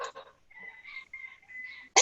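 A single sharp sneeze bursts out loudly near the very end, following a stretch of soft voiced sounds and a brief whistle-like tone.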